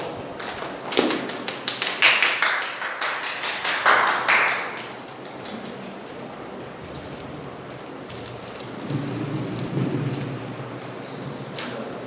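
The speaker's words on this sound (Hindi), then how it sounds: "तालियों के साथ प्रभु के दास के स्वागत करें।" A church congregation at a Sunday service claps to welcome the preacher, a burst of fairly close, irregular applause over several seconds that fades into quiet room tone and a low murmur.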